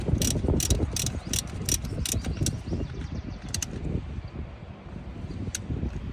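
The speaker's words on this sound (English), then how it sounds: "Using ratchet and 10mm socket to tighten all 4 nuts while keeping the coil by the other hand." A ratchet with a 10mm socket tightens the ignition coil pack nuts on a 2006-2013 Toyota Yaris, giving quick runs of close, crisp metallic clicks that pause and restart over a low, steady background rumble.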